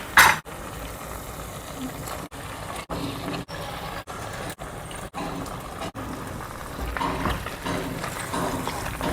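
Prawns fry and sizzle in masala curry, a steady soft crackle that is interrupted by several brief silent gaps.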